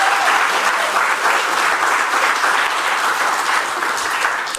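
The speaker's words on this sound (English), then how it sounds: "Let's give him a round of applause, please." An audience at an awards ceremony for CXC examination results breaks into steady, sustained applause, a dense wash of clapping hands filling the hall without pause.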